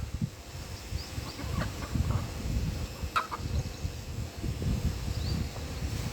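Two mother hens tending their chicks make soft, scattered clucks, with faint chick peeps over a steady outdoor background.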